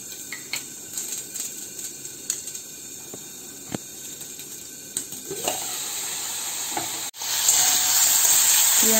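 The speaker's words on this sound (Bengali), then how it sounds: "পেঁয়াজটা জল শুকিয়ে গেছে, একটু ভাজা ভাজাও হয়ে গেছে।" Onion fries with ginger paste in a pan: scattered pops and crackles at first, then a sudden louder, steady sizzle near the end, heard alone without talk.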